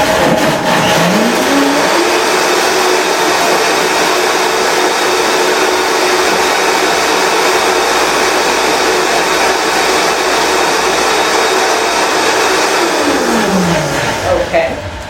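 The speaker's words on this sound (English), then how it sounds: "We're going to add this to the blender, give it a little mix." Kitchen blender whirring steadily as it mixes a burger sauce, loud and close, spinning up at the start and winding down at the end, running alone with no talking.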